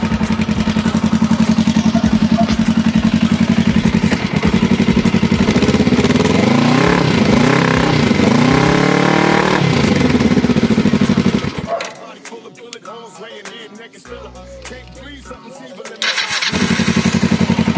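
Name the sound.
Kawasaki ER motorcycle engine starting and revving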